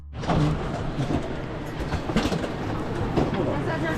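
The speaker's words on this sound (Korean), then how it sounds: "이거 북한, 북한 열차다" Interior of a North Korean passenger train running on rails near Beijing, a steady loud broadband rumble with rattling and faint clatter throughout, with some voices in the background.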